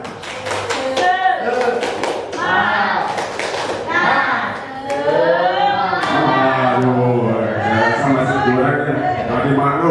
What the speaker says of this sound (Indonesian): Tepuk semangatnya mana? Tepuk semangat.